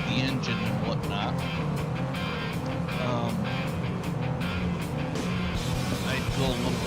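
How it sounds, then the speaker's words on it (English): A race car engine in the 2004 game Flat Out Racing drones steadily throughout at high revs, with tire noise and passing whooshes, loud and constant, while someone talks over it. "I'm gonna continue to race because it seems as if I still have good control over the car."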